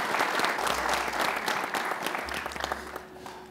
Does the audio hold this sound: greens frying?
no